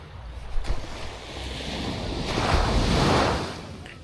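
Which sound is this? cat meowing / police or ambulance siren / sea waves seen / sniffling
sea waves seen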